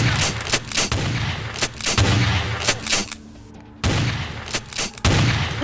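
Gunfire in the video game Vampire: The Masquerade – Bloodlines (Final Nights mod): loud, sharp shots arrive in irregular bursts and single cracks, with a brief lull near the middle before the firing resumes.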